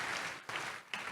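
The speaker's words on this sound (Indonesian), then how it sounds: "Kasih tepuk tangan yang meriah untuk Tuhan Yesus." A church congregation applauds during a sermon, steady loud clapping that briefly dips twice and then resumes, with no talking over it.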